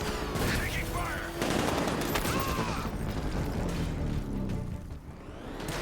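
Video game gunfire in Batman Arkham Knight, with dense bursts of shots and mechanical clatter filling the mix, loud and continuous over a busy game soundscape.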